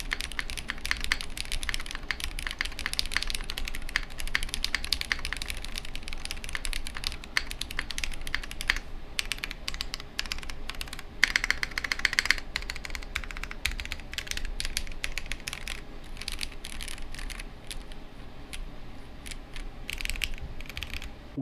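Typing on a ZoomTKL Dyna mechanical keyboard built with a 1.2mm PCB and cork, dense fast clacking keystrokes that run continuously, close and moderately loud, no voices.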